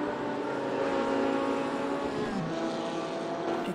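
A GT race car engine drones and hums steadily in the RaceRoom racing game during an ADAC GT Masters 2018 race at Most Autodrom, a constant mid-level tone with slight pitch shifts and no talk.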